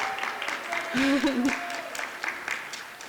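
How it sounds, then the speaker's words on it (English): A school audience gives a quick round of clapping at a creative writing evening, light and moderate in volume, with a voice speaking over it in the middle. "Quick round of applause."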